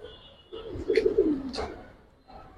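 Giribaz pigeons cooing close by, a couple of soft low throaty coos rising and falling amid faint background noise.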